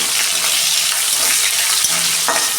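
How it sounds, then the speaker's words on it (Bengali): Sliced onion sizzles in hot oil with dried red chilies, bay leaves and panch phoron, a dense close crackling fry with occasional stirring scrapes, loud and steady throughout. "পেঁয়াজটা আমি 2 মিনিট ভেজে নেব।"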